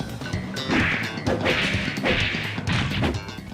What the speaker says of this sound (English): sound effects have this nice, cartoonish punch to them